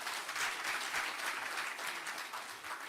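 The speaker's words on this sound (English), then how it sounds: "Can we give a round of applause, please?" Steady, dense applause from delegates at a football association congress at a soccer center, a sustained wash of many hands clapping at moderate volume.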